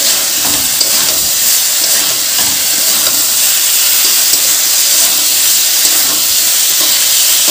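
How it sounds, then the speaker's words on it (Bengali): Food fries hard in a pan over a high gas flame, producing a loud, steady, unbroken hiss that runs throughout with no voices. "গ্যাসের ফ্লেমটা বাড়িয়ে দিয়ে একটু ভালো করে ভেজে নিচ্ছি।"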